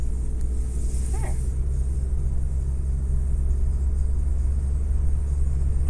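Steady low engine rumble from a car being driven, constant and close throughout with road noise and no talking.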